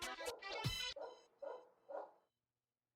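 A dog barking in a video game, two quick loud barks followed by softer, fading whimpering yips, then silence.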